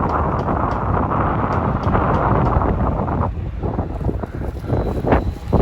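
Heavy wind buffets the microphone in a field during a soybean harvest, a loud rumbling roar that surges steadily, then thins and gusts unevenly toward the end, with no voices.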